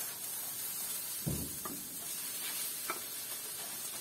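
Green onions sizzle in hot oil for egg fried rice, a steady frying hiss with a few soft stirring scrapes and taps near the pan.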